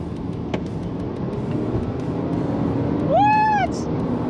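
Steady engine roar from a 2022 Subaru WRX SPT and Kia Stinger accelerating side by side from a 50 km/h rolling start, with a brief rising tonal whine near the end.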